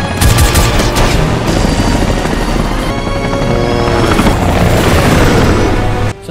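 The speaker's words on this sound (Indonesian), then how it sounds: "Meskipun berbagai kali mendapatkan tembakan dari Welker" Gunfire and booming blasts from a movie helicopter chase, loud and continuous, with rapid bursts over a steady rotor and engine roar and no talk.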